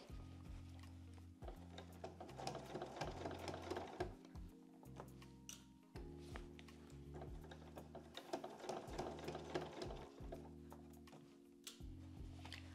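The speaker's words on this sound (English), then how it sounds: "just easing these pieces together as they go through the machine" Sewing machine stitching bucket hat pieces together in free arm mode, a close steady mechanical whir and needle chatter that runs in stretches with brief pauses between them, with no talking.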